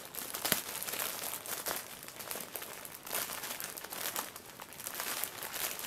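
Close, steady crinkling and tearing of plastic packaging as Pikachu snowman keychains are unwrapped, a continuous rustle with sharper crackles and no talking.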